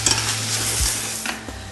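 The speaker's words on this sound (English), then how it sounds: "We're just going to give that a little bit of a stir around." A spoon stirs ostrich goulash around a pot just after deglazing, with a steady close sizzle and a few soft scraping strokes against the bottom over a short stretch.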